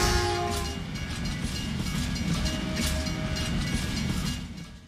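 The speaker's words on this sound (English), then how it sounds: "walking to the edge of the level will cause a train to appear, blocking 47's path" A train rolls past in the Hitman video game at the edge of a South Dakota level, a loud steady rumble with rapid rail clatter and a horn tone at the start, lasting several seconds without talk.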